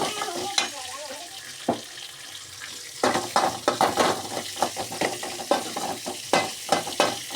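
Cabbage stir-fries in a pan, a close sizzle broken by repeated sharp scraping and tapping strokes of a spatula that become quicker and more rhythmic midway, with no talk.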